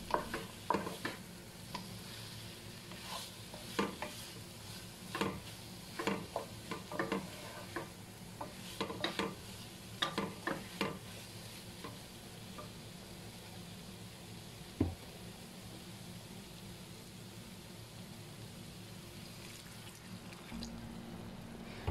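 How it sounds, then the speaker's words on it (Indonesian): Spiced beef for spicy empal mercon sizzles in a pan while a utensil stirs it in irregular scraping strokes. The sounds are soft and close, with a steady low frying hiss beneath and no talking. "diaduk-aduk seperti ini ya teman-teman, supaya bumbunya itu merata"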